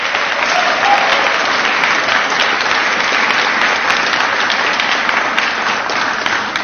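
Applause from a crowd at a political speech, a loud, continuous roar of clapping that stays even and unbroken throughout, with no voices standing out.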